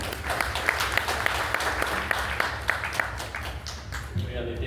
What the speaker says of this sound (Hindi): एक बार जोरदार तालियां डॉक्टर साहब के लिए